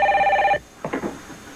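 Telephone bell rings with a steady repeated trill for about half a second and cuts off, followed by faint rustling in a quiet room.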